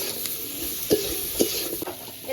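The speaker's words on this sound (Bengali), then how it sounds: "এবার সেই পটল আর আলুটা একটু ভাজা ভাজা করব" Pointed gourd and potatoes fry in oil, seasoned with salt and turmeric, giving a continuous close sizzle with a few scattered stirring clicks and no voices.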